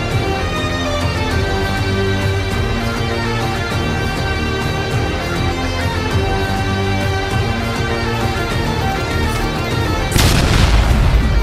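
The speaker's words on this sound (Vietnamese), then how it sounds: "Nấm lùn này thì nó nổ phát tận 3 lần luôn." Doom-shroom explosions in Plants vs Zombies, a dense layered game soundscape with repeated booming hits and a sharp loud blast bursting in near the end, no talk.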